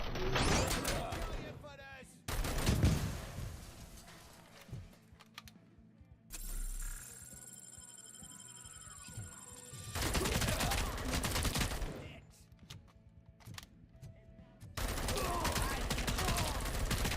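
Rifle gunfire in the video game RoboCop: Rogue City, dense bursts of rapid shots in several loud stretches, broken by quieter gaps of in-game ambience.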